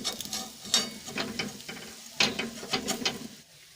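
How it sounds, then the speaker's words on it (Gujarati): Handvo, a Gujarati savory cake topped with sesame seeds, frying in oil in a pan and being flipped over, heard as a crackling sizzle with scraping, clattering turns of a spatula, fairly close and steady. "હવે આપણે હાંડવાને બીજી સાઈડ ફેરવી લઈશું।"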